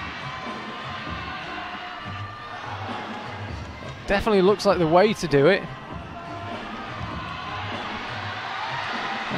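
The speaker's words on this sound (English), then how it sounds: "You can tell from the reaction of the crowd, and hope you can hear them through our mics" A home crowd at a climbing competition erupts in a short burst of cheering and whooping around a climber's attempt, rising suddenly for a couple of seconds amid steady arena murmur, with a commentator talking before and after.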